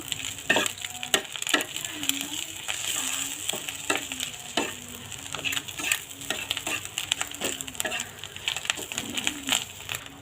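Egg mixture seasoned with salt, spices and turmeric is stirred in a pan for a noodle dish. Repeated scraping strokes of the utensil come over a light sizzle, while a pigeon coos rhythmically in the background.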